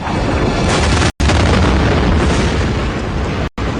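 A massive asteroid impact explosion roars as a continuous, loud, broadband blast with deep rumbling low end, cut by two abrupt brief silences, with no voices.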